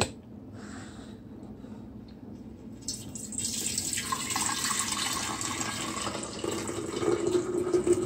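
Jamaican sorrel drink pours steadily into a container, a hissing, splashing stream that rises in pitch as it fills, with no talking.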